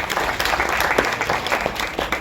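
Steady audience applause at a Bharatanatyam debut recital in Bengaluru, honouring the dancer's parents; dense, continuous clapping fills the hall from start to finish.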